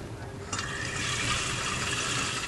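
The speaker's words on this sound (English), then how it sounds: "they can fill a jug with water" Tap water runs steadily into a jug, starting abruptly after a brief pause and continuing as a close, even rush of filling liquid, with no talking.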